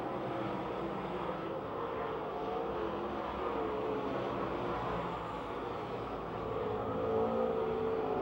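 Race cars on their final lap at Pennsylvania Motor Speedway near Pittsburgh, a steady distant engine roar from the field that swells and fades slightly as the cars circle the oval, with no voices.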